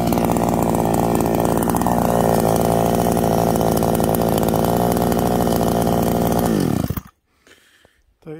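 A Kawashima KCS 550P chainsaw with a 54 cc engine cuts through wood, running loud and steady at high revs for about seven seconds before it stops abruptly, leaving near silence.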